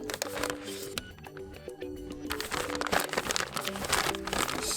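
Plastic bag crinkling up close as a DJI Avata drone is unpacked, with irregular crackling bursts of handling that grow denser toward the end.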